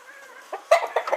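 A gamefowl rooster clucks up close, a few short throaty clucks coming in quick bursts after a quiet start.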